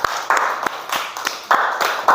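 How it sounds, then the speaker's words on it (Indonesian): A classroom of students claps for a group, a short burst of applause with uneven, overlapping hand claps close by, rising and falling in waves. "tepuk tangan untuk kelompok 2"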